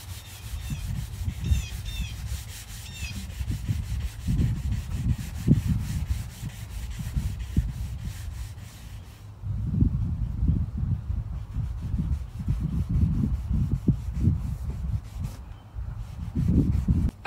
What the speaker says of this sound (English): we're just going to take a sanding block and sand them up a little bit